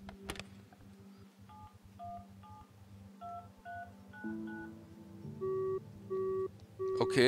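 Telephone dialing tones come from the video game The Final Station as a run of short electronic keypad beeps, followed by longer repeated beeps like a busy signal, quiet and without talk.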